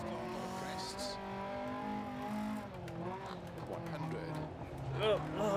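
A rally car drifting and skidding on gravel in the Dirt Rally 2.0 video game, its engine droning and revving continuously while someone talks over it throughout.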